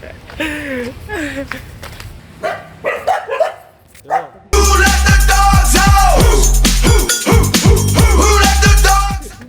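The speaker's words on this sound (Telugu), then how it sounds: "మేము వస్తే మా కుక్కలు ఎంట పడుతుంది" Several dogs bark in a loud, continuous chorus on a street in Goa, the barking kicking in abruptly and persisting over people talking nearby.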